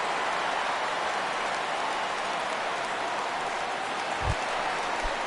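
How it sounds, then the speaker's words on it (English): The home crowd in the MLB The Show 17 baseball video game murmurs restlessly, a steady, dense wash of distant crowd noise like soft applause, with a couple of brief low thumps. "the home crowd seems a little restless"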